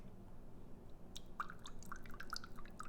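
Water spilling from a cup and bubbling, a few small gurgling drips and pops over a steady low hiss, faint and close.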